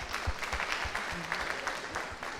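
A church congregation claps together, a steady dense patter of many hands at moderate distance with a few faint voices mixed in.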